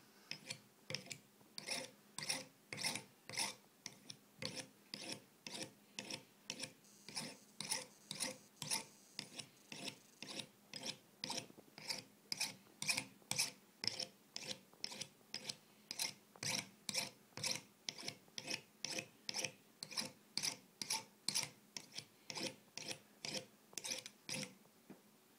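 A knife blade is sharpened on the unglazed bottom of an upturned ceramic cup, producing about fifty close, rhythmic rasping strokes in a steady back-and-forth pattern, with no talking.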